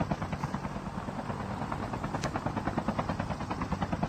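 Helicopter in the Call of Duty Mobile video game, a steady rotor thrum with rhythmic chopping pulses that runs throughout, fairly loud, with no speech.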